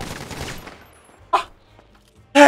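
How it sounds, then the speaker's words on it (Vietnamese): Gunfire in the video game GTA V: two sharp, loud shots about a second apart, each standing alone over a quiet, fading background of game noise. "Thề sao cái súng cứ bắn nó một viên là hết đạn vậy?"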